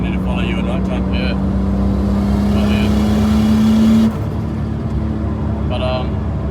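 An idling Nissan R32 street cruiser holds a steady low engine hum that drops off abruptly near the end, while people talk over it.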